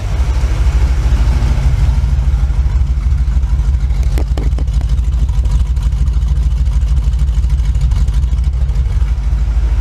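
A 1980 second-generation Camaro's 5.7 small-block V8 idling with an old exhaust pipe, giving a loud, steady low-pitched rumble up close that holds throughout, broken only by a few brief clicks midway.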